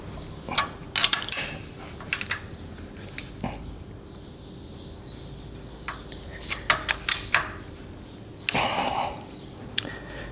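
A Ferguson TEA tractor engine, short of compression, turned over by hand, giving scattered mechanical clicks, creaks and ratchet-like clatters in a few bursts, fairly close in a quiet space.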